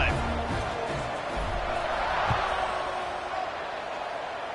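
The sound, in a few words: crowd cheering in a college football video game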